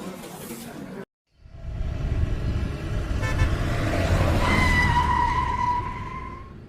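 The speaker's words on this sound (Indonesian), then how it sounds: "Waduh, ada mobil polisi nih" A police car pulls up in a street scene, its engine rumbling steadily after a brief silence, with a rising horn-like tone and whine building near the end, fairly close and loud.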